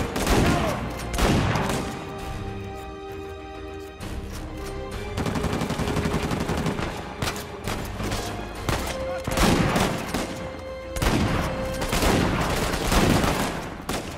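Gunfire rattles through a firefight in the video game Uncharted 4, with dense bursts and repeated shots across the whole stretch, loud and continuous, and a voice occasionally talking underneath.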